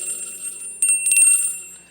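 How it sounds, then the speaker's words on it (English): A debate time-up bell rings out, bright and metallic, with a soft lead-in followed by a cluster of sharp, rapid strikes that fade away gradually. "do not ask for whom the bell tolls. It tolls for you, and you must stop at that time."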